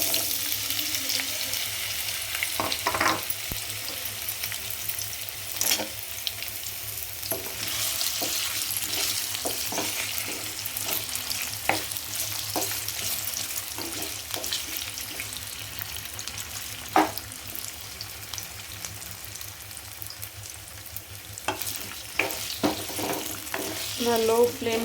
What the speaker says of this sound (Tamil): எண்ணெய் நல்லா சூடு ஏறினதும் கட் பண்ணி வச்சுருக்க உருளைக்கிழங்க சேர்த்துக்கலாங்க